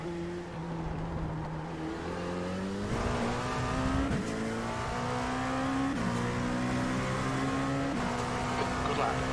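LMP2 race car engines roar in a racing video game, several engines rising and shifting through gears with revving climbs and a brief tire squeal, loud and up close, with someone talking over them.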